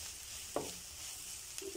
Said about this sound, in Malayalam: ഇനി ഇതിലേക്ക് വെളുത്തുള്ളിയും ഇഞ്ചിയും ഫ്രഷ് ചെയ്തതാണ് ഇട്ട് കൊടുക്കുന്നത് ഒന്ന് ഇളക്കി കൊടുക്കാം